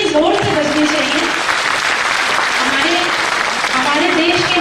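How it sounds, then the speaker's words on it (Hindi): Loud, sustained applause from a large audience at a state-level World Population Day ceremony, clapping continuous and even throughout while someone speaks over it through a PA. "तालियां थोड़ी जोर से बजनी चाहिए"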